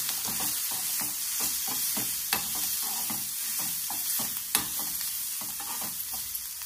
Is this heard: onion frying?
yes